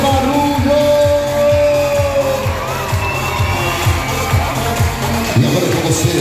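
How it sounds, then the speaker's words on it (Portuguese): A circus audience under the big top in Campos dos Goytacazes yells and cheers loudly over a pounding rhythmic beat, with sustained shouting voices and some clapping blended into the din. "Eu quero ouvir as palmas."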